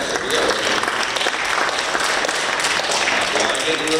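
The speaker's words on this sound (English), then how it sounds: "I'm getting a little tired from that clap" Sustained applause from an audience at a disability art exhibition event, steady and dense clapping throughout with no pauses.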